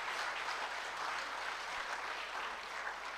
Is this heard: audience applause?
yes